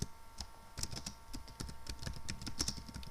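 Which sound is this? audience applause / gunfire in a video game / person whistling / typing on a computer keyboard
typing on a computer keyboard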